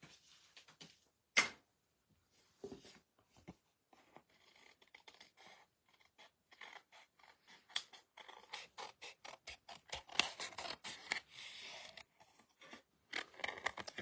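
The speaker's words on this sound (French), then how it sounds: "Avec mes petits ciseaux." Small scissors snip through paper card in a quiet room, a string of short crisp cuts and scrapes with soft handling noises between them, growing busier toward the end.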